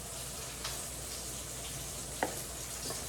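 Apples cooking in a pan for a fall quail dish, a steady soft sizzle and hiss throughout with a single faint clink of a utensil, no voices.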